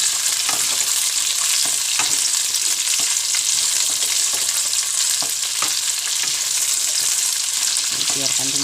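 Long beans stir-fry with sausage in a hot pan, a steady loud sizzle broken by repeated scraping stirs of a spatula.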